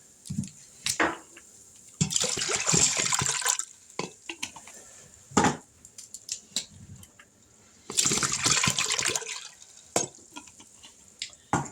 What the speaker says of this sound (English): To that, we're going to add two 8-ounce bottles of apple juice.